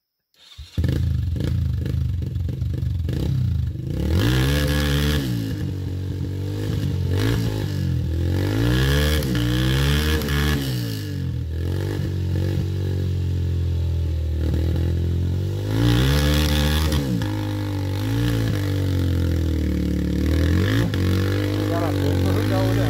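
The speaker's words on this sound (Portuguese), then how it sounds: "Usaberg dando a partida no pedal." A Husaberg motorcycle engine being kick-started sputters and revs repeatedly in rising and falling bursts, loud and close, with clattering mechanical noise and people talking throughout.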